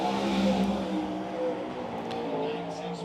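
A race car runs a qualifying lap at Silver Dollar Speedway, its engine droning and revving steadily at a distance, with a crowd and loudspeaker faintly behind it.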